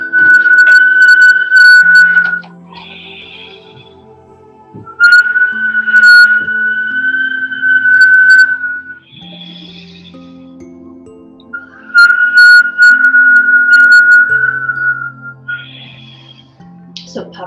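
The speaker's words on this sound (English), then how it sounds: "start inhaling through puckered lips with a whistle and exhaling through the nose" Whistling through puckered lips on the inhale during a Kundalini yoga breathing exercise: three long, loud, sustained whistles, each a few seconds long, with a voice speaking softly in the gaps between them.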